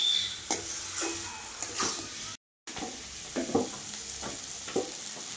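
Banana flower curry sizzles and fries in a pan while a spoon stirs it through with salt, a steady crackling hiss broken by scraping strokes.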